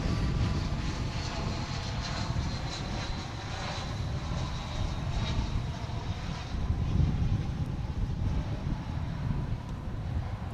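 A fixed-wing airliner arriving from Bakersfield, California at Dallas/Fort Worth Airport at night gives a steady distant engine roar with broad rumbling noise and light wind, continuous and fairly faint with no talking.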